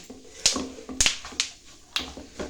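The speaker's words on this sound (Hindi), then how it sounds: "देखें, तिल चटकने की आवाज़ आ रही है, इसमें से कड़क कड़क हो रहा है।" Sesame seeds roasting in desi ghee crackle and pop, with about five sharp, close snaps spaced unevenly across a short stretch over a faint sizzling background.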